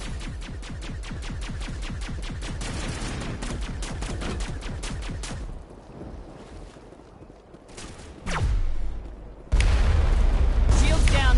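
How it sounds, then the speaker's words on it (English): Rapid, rhythmic automatic gunfire crackles through a Mass Effect firefight against the Geth, with coordinated crossfire and long-range turrets, bursts running steadily at first, then thinning out before heavier, louder blasts close the sequence. "Manavai is under coordinated crossfire"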